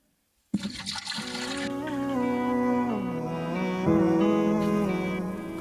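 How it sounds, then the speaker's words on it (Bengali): Milk poured into a container by a milk seller, a sudden start followed by a steady, rising gurgle of liquid filling up, close and continuous with no talking. "তাহলে ঢালেন, দুধ ঢালেন"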